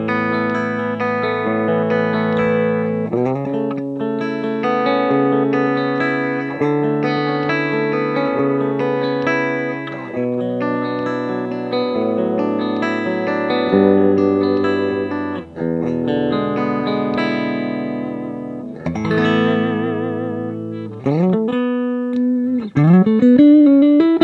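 Electric guitar through a Granville Mystery Marvel amp playing chords and single-note runs with a clean, slightly compressed, direct tone and some reverb, loud and close, no talking.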